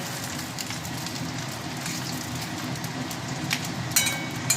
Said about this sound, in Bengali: এটা হয়ে গেলে আমি তুলে নেবো বড়াগুলো, এক পিঠ করে সব ভাজা হবে